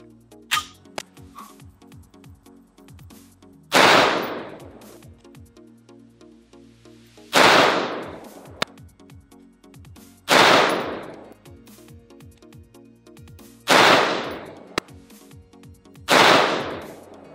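An AR-15 rifle with a Faxon dissipator-style barrel fires Gorilla Ammunition 55-grain Sierra Blitzkrieg loads outdoors. Five loud, sharp single shots ring out several seconds apart, each trailing off in a brief echo, with no talking.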